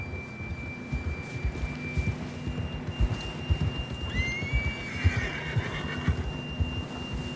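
A horse's whinny in Red Dead Redemption 2 rises sharply and trails off over a steady electronic tone, with muffled low thumps and background game ambience underneath.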